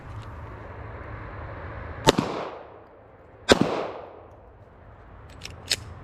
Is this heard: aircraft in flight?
no